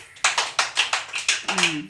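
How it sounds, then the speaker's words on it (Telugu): Preschool children clap their hands in an Anganwadi classroom, a quick run of about eight evenly spaced, sharp claps close by, with a voice heard faintly at the end. "క్లాప్స్ కొట్టండి"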